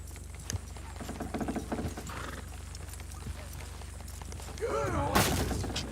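Horse hooves clip-clop in a steady rhythm through a Red Dead Redemption 2 game scene, with a brief whinny and a louder thump or crash near the end, over a low background rumble.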